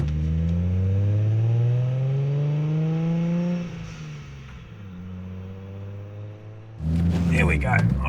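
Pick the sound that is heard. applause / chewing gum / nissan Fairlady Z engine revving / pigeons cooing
nissan Fairlady Z engine revving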